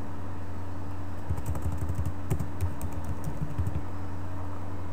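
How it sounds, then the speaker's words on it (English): Typing a search into a computer keyboard: a quick burst of light clicking keystrokes over a steady low hum, close and fairly soft, with no talking. "Okay, so I can just type fitness."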